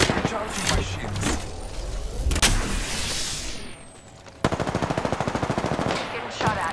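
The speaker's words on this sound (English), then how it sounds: "Getting shot at." Rapid automatic gunfire rattles through an Apex Legends fight, with scattered loud shots early on and then a steady close-range burst of rapid rounds, while a voice talks underneath.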